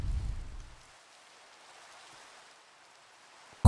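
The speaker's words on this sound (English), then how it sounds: "Of course, it's raining." Soft, steady rain hiss in a modded Minecraft world, faint and continuous after a brief low rumble at the start, ending in a sudden loud thump.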